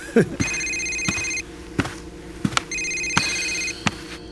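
Telephone ringing in repeated bursts of a bright electronic ring, fairly close and loud, with short pauses between rings and a few sharp knocks or clicks in between.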